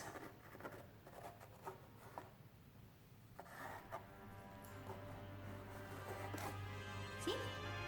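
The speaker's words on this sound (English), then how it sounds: "So you take your circular object, a pencil, and you just do a little trace." A pencil is traced around a circular object on a paper plate, giving faint, scratchy rubbing strokes of graphite against the paper, quiet and close, over a low background hum.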